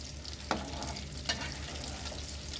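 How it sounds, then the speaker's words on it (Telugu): Shakkarpara pieces fry in oil over a medium flame, a steady close sizzle broken by two sharp stirring clinks of a spoon against the pan. "కొద్దిగా వేసుకుంటూ ఫ్రై చేసుకోవాలి మీడియం ఫ్లేమ్లో"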